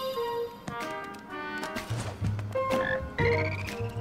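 A frog croaks repeatedly in the Kingdom Hearts III video game, loud and close, its tonal calls layered over game music with brief tapping bounces.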